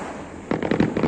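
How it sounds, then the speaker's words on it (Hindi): Firecrackers going off during Diwali, heard from a home above the street: a quick run of sharp pops and cracks after half a second of steady background noise, some way off. "नीचे सब पटाखे छोड़ रहे हैं।"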